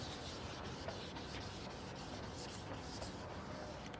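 Wet sanding by hand with light pressure, a soft, continuous rubbing rasp with faint rhythmic strokes, quiet and close, with no voices.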